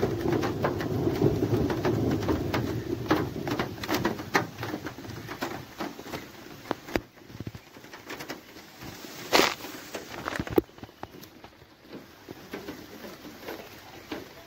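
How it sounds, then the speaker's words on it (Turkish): Rain falls steadily on a picnic area near caves, heavier at first, with distant rumbles of thunder and a few sharp cracks, while birds call faintly in the background. "yağmur tekrardan başladı. Başlamak üzere değil, başladı şu anda. Gök gürültüsü de var."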